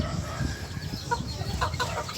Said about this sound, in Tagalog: Tumitalawak na yung bantam natin